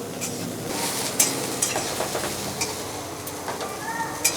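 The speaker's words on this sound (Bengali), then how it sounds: "সয়াবিনটা একটু ভাজা ভাজা করে নামিয়ে নেব।" Soybean chunks fry in hot oil in a kadai, a steady close sizzle broken by repeated scraping clicks of a spoon stirring against the pan.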